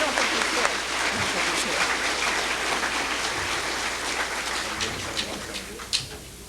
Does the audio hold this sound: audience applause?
yes